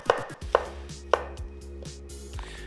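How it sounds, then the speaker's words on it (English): Kitchen knife slicing mushrooms into thin slices on a cutting board, three or four crisp, evenly spaced chops with quiet pauses between them, close up and without talk. "cutting them into nice thin slices is a classic pairing, mushrooms and asparagus"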